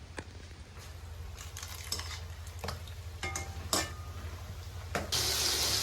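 Ghugni masala being sautéed in a home kitchen pan, with soft sizzling, occasional spatula scrapes and clicks, and a low background hum, fairly quiet and close.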